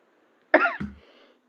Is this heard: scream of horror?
no